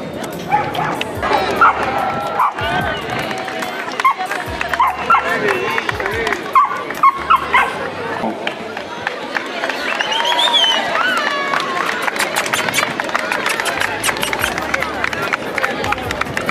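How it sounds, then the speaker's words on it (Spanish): Several dogs bark and yip repeatedly amid a lively crowd at a TV show, with people talking, applause, and a high whimper breaking through now and then. "Es el perro Perú"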